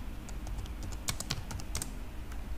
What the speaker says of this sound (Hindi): यहाँ पे लाइब्रेरी शीट में यूज़ होने वाला जितना भी डाटा है वो हम टाइप करेंगे